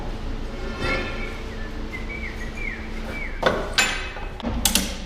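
Ratchet straps being cranked tight to secure a load on a truck, giving quick metallic ratcheting clicks and a few sharp clanks against a steady background hum with faint whistling tones.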